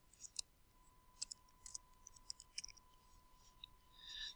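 Computer mouse clicking at a desk, several faint sharp clicks including quick double clicks scattered irregularly over a quiet room with a steady faint electrical hum.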